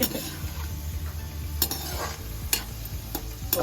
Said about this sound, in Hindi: तेल में डलते ही उबल गई।